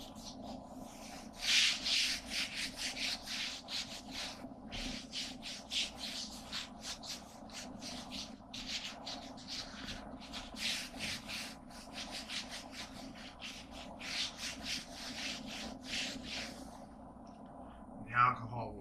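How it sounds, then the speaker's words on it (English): A rag soaked in alcohol wipes down a car engine bay in quick, rhythmic rubbing strokes, close and fairly soft, while a person talks over much of it. "You're just taking alcohol and wiping everything down."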